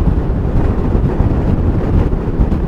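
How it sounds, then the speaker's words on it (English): Wind roars over the microphone while riding a 2021 Honda Forza 125 scooter at speed, a loud, dense, continuous rumble that buffets without pause. "Yeah, pretty windy here."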